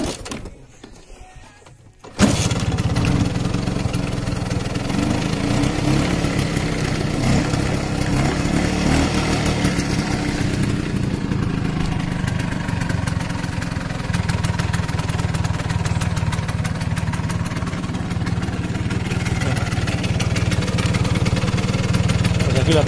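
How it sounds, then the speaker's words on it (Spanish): A 1984 Vespa P200E scooter engine catches after a short quiet moment, then settles into a steady, buzzy two-stroke idle that carries on evenly for about twenty seconds, close by and without voices. "Así que ahora debería arrancar."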